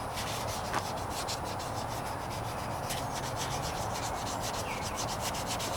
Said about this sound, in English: Wrapping this up in terms of sanding.